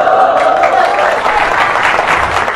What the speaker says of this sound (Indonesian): Allahu Akbar, jangan tepuk tangan.